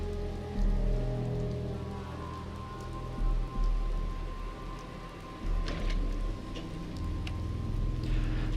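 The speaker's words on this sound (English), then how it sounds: "let's get inside and get out of this storm." Steady rain storm in Fallout 4, a dense continuous hiss of rain on surfaces with occasional sharper drips, filling the scene at moderate loudness with no talking.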